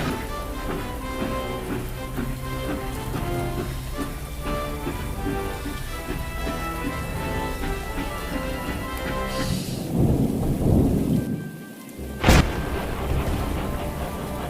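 Heavy rain falls in a thunderstorm, a steady dense hiss over low rumbling. Near the end a deep roll of thunder swells up, followed by a sharp, loud crack.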